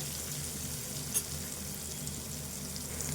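Goat liver curry ingredients fry in a pan with turmeric, giving a steady, soft sizzle that holds evenly throughout with one brief clink near the middle and no voices.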